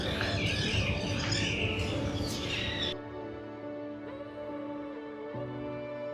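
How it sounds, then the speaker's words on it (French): Birds chirp and call busily outdoors in a Toronto park for a few seconds, then the chatter cuts off, leaving a quieter background with faint tones. "Écoute tous ces oiseaux"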